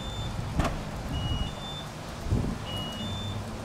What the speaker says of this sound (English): It makes three weird tones, and it locks the car after the first one and before the second one.